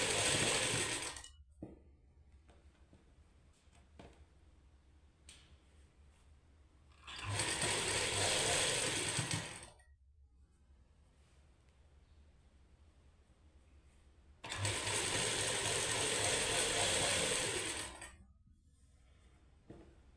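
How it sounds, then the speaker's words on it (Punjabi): An electric sewing machine stitching a seam on a suit, whirring in loud bursts of a few seconds each with quiet pauses between, close and without talk. "ਸੀਨ ਲਾਵਾਂਗੇ ਮਸ਼ੀਨ ਦੇ ਨਾਲ"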